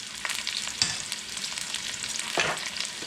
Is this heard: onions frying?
yes